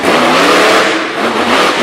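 Derek Hansen's Heavy Hitter monster truck roars at an arena event in Brookville, Pennsylvania, its big engine revving hard in one loud, sustained, rising blast with no voices over it.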